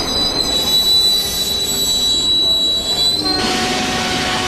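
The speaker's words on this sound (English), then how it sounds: "the emergency brakes activate, and the train comes to a halt." A Paris metro train brakes to a halt, loud and close, with a high, sustained wheel squeal and screech against the rails over rumbling rolling noise, shifting in pitch near the end as it stops.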